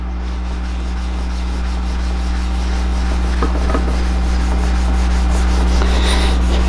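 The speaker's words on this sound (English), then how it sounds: "I'll rub it with this polish until the polish is virtually gone" Steady, loud rubbing of polish by hand onto a Honda CBX motorcycle part during restoration, a continuous close abrasive swish over a constant low hum.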